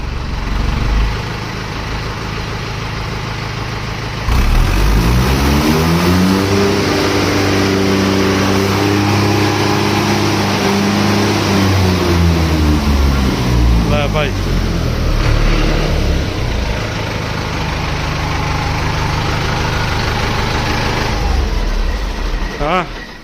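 A vehicle engine idles, then revs up and back down in a long, steady swell, with a few brief voices underneath.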